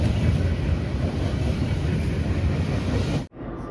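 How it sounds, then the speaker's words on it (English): A CSX freight train with locomotives rolls past close by, a loud steady rumble of wheels and rail noise with wind buffeting, cutting off abruptly near the end. "Trailing locomotive is CSX 12."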